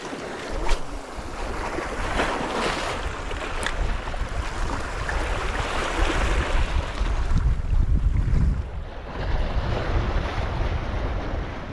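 Choppy sea water slaps and washes continuously under overcast skies at a bass lure-fishing spot, with steady wind buffeting the microphone, close and fairly loud with no talk.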